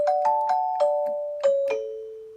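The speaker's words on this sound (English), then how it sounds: "Very doorbellish bells, quite good." Bell-like tones from the bells voice of a Belle CK60 home keyboard chiming a short descending melody, bright and struck, each note ringing like a doorbell chime.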